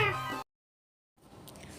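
A cat gives one short, tonal meow at the start, then silence before a low background hiss returns.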